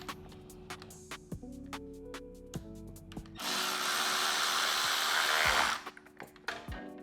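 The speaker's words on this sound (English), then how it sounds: "And now we're ready to reinstall the cover again. 4 T20 bolts, screws." A power tool whirs for about two seconds, driving a T20 screw to refit a motorcycle cover. Scattered light clicks and taps from handling parts come before and after the burst in a quiet workshop.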